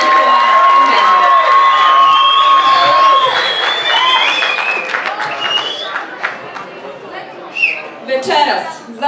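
An audience at an amateur singers' competition in Medveđa claps and cheers in a dense, loud wash, with a steady high tone early on and crowd chatter as the applause thins out.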